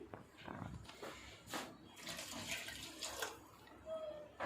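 Water is poured into a cooking pot of beef keema for a keema karela dish, a brief splashing pour that comes in short bursts close by. No words are spoken.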